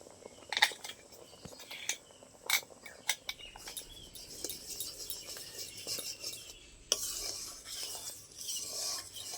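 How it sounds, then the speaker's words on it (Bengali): Almond paste is stirred into boiled milk in a pan, giving soft intermittent scraping and rubbing strokes at close range with sharper clinks now and then. Faint birdsong runs in the background. "বাদামের পেস্টটা দেওয়ার পরে অনবরত নেড়ে যেতে হবে, নাহলে তলায় লেগে যাওয়ার আছে।"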